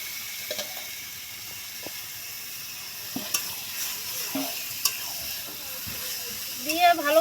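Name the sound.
chicken pieces frying and being stirred in spice masala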